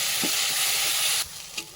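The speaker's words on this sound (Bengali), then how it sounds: "এখানে মশলা কষা হচ্ছে" Spice paste sizzling in a pan for Bengali egg curry, a steady loud frying hiss with faint stirring scrapes, then an abrupt drop to a quieter sizzle with one soft clink.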